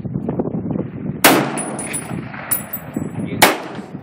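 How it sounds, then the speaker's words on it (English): Heavy rifle gunshots at an outdoor gun range, two loud sharp cracks a couple of seconds apart with metallic ringing after each, while people talk quietly nearby. "That's a heavy gun."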